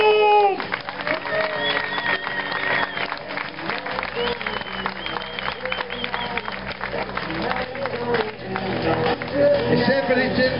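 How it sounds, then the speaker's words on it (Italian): An outdoor crowd at a football team presentation claps and cheers continuously, with a loudspeaker voice talking over the applause and music playing underneath. "E qui l'applauso, qui l'applauso!"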